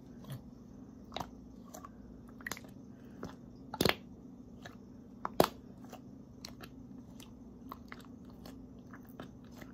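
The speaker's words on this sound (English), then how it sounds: "You press it and it makes these like fart noises." Dollar Tree toy slime pressed by hand, producing sparse, brief squishy pops and crackles at irregular intervals, with two sharper bursts, close and fairly quiet against a low hum.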